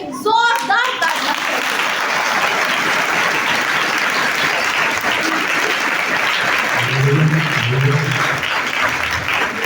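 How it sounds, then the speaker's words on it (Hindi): Loud, sustained applause from a congregation at an Easter sunrise service sermon, dense clapping filling the whole stretch, with a voice speaking briefly near the end. "आइए यीशु नासरी के लिए जोरदार तालियां।"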